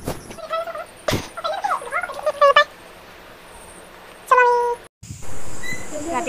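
Domestic cat meowing indoors at night, several clear meows in a short series and then another pair of meows a few seconds later, fairly close and loud, over low room hiss with no talk.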